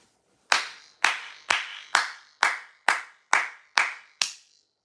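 One person claps nine times in a steady, evenly spaced rhythm, each sharp clap ringing briefly in a quiet room.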